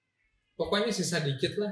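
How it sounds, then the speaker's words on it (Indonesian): A cat meows close by, starting suddenly after near-silence and mixed in with a person talking at the same time. "kucing siapa sih berisik banget"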